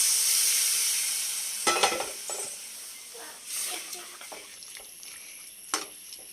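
Green peas curry being stirred in a frying pan, a soft hiss of sizzling under a few scrapes and light clinks of the spoon against the pan, faint and close.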